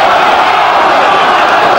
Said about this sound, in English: Crowd in the north back now find their voices again.